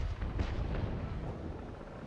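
Ship cannon fire in the naval combat game Naval Action, with heavy low booming broadsides rolling together in a dense, continuous rumble and a few sharper reports standing out near the start.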